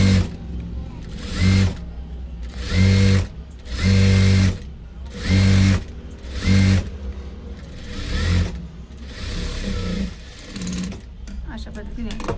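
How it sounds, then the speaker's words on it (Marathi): A sewing machine runs a pressed seam on a size-30 katori blouse, in repeated short bursts of stitching separated by pauses, fairly close, with a person talking between and over the runs. "पूर्ण दाब शिलाई आपली स्टिच करून झालेली आहे"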